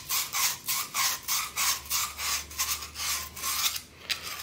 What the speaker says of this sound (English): We're going to take our sandpaper. We're going to clean up all the edges.